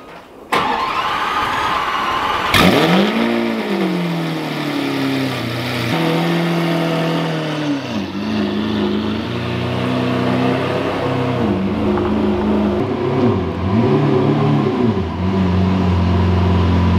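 A Lamborghini Gallardo, jump-started after sitting idle for eight weeks, cranks and fires into a loud, close cold-start roar, then settles into a high idle with repeated throttle blips and revs rising and falling.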